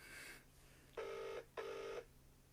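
A telephone rings out twice on the line with no answer, the two even tones separated by a short gap and set over a faint steady hum.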